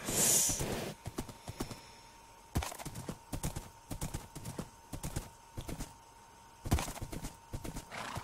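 Horse hooves clip-clop in a steady run in Minecraft, with a loud neigh at the start and snorts along the way.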